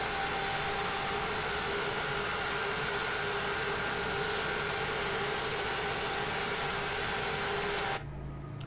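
Embraer ERJ-195 jet engines in Microsoft Flight Simulator 2020, heard from outside the aircraft: a steady, rushing broadband roar with a faint whine on top that cuts sharply to near quiet at the end.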